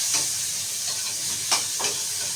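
Sliced onions hit a hot pan for ampalaya with oyster sauce, giving a constant broad hiss of frying with a few brief louder sizzling bursts as pieces are stirred in.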